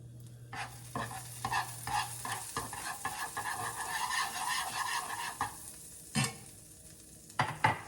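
Butter with thyme leaves and minced garlic frying in a pan, a moderate sizzle with intermittent stirring and scraping sounds, fairly close, and a brief low hum near the start.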